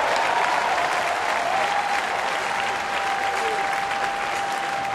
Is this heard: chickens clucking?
no